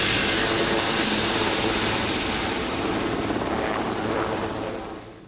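Steady, loud helicopter rotor and engine roar close by, continuous and dense throughout, fading slightly at the very end.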